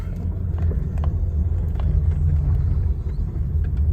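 A Kia Cerato drives steadily with a low, continuous engine rumble and road noise, heard from inside the car.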